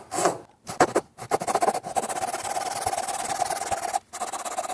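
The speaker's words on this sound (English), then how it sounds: "I'm just cutting right where my marking line was" A hand saw cuts through wood along a marked line in a woodworking shop, making a series of rasping strokes that run into a long steady stretch of sawing, close up and moderately quiet.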